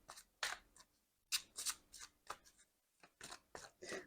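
Tarot cards shuffled by hand in a series of short, crisp riffling and snapping bursts separated by brief pauses, close and fairly quiet, with no talking.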